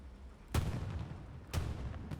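Tank cannon fire in the World War II shooter game Hell Let Loose: two heavy booms about a second apart, each with a rolling tail, and a third shot starting at the very end.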